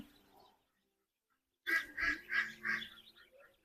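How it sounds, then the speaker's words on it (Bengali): Four-day-old ducklings on a duck farm raising about fifteen hundred birds give a burst of loud, repeated peeping calls in a quick run of four or five, after a short silent gap. "পনেরোশো হাঁসের বাচ্চা আপনারা পালতেছেন"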